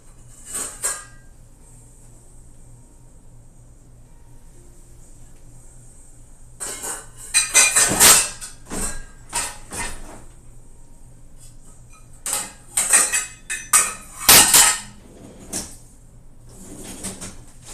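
Pots and pans are rummaged through in a home kitchen cupboard, with bursts of metallic clanks, scrapes and clatter coming in irregular clusters between quiet pauses, close by.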